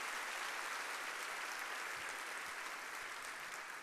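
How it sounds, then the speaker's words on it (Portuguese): A church congregation applauds steadily during a Baptist evening service, a dense, even wash of clapping that holds at a constant level throughout, with no voices standing out. "Você pode dar um aplauso ao Senhor."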